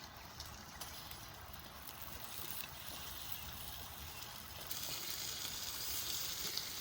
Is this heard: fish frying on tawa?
yes